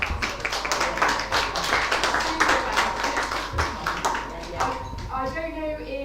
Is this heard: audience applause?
yes